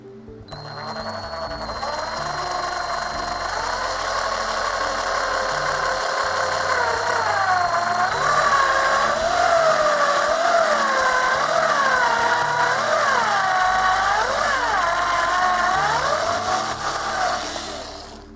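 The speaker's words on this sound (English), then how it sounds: "switch to the step drill, the fine step drill bit" A drill with a fine step drill bit runs steadily for a long stretch, its pitch rising and dipping as the bit works through material, loud and close with no speech.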